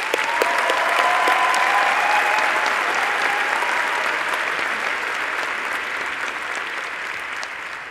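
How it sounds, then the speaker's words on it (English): Graduation ceremony audience for the Faculty of Engineering applauds the graduates, a large hall full of sustained, even clapping that stays loud throughout and tapers gently, with a faint whistle-like tone early on. "Please join me in a round of applause to the graduates."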